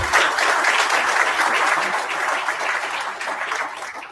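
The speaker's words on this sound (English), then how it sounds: "please give yourselves a resounding round of applause" A large audience at a bank roundtable discussion claps enthusiastically, a thick, sustained wash of applause that tapers slightly toward the end.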